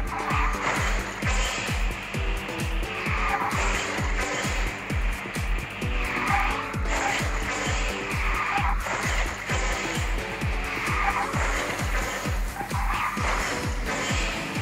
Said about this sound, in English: had to extra drift there because it wasn't full.